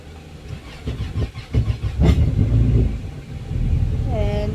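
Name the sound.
Yamaha 252XE jet boat engine running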